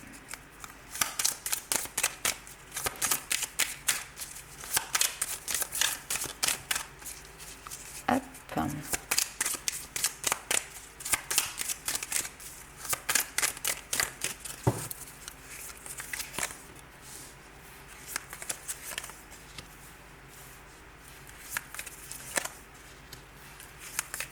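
Tarot cards shuffled by hand for another draw, giving a dense, continuous run of close, crisp riffling and clattering taps that lasts the whole stretch with only brief pauses.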